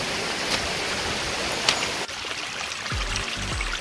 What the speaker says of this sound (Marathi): समोरच्या बाजूला बघू शकतो का या बोगद्यातून पाणी येऊ राहिलं